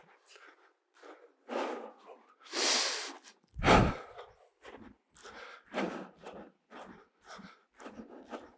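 Heavy breathing from someone doing a high-intensity lower-body leg workout: a run of loud, close breathy exhales and gasps in irregular bursts, with one sharp, forceful gasp near the middle.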